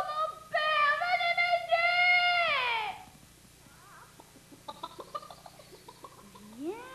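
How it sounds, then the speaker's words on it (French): Chicken escaped from a farmyard clucking in an animated children's cartoon, a loud drawn-out squawk falling in pitch, followed by quieter, choppy clucks and rustling close by. "Le poulet s'est sauvé de la basse-cour et j'essaie de le rattraper"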